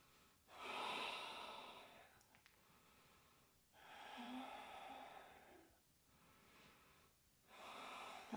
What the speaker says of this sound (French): Encore 2 belles respirations